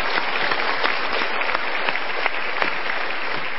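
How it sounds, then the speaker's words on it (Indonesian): An audience at an indoor talk breaks into sustained, dense applause that stays steady and fairly loud for about three and a half seconds with no voices over it. "Kita berikan tepuk tangan sekali lagi."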